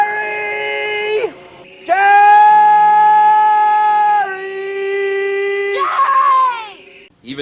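A woman's shrill, sustained screams from The Texas Chainsaw Massacre film, loud and close, in long drawn-out cries separated by brief gasping breaks.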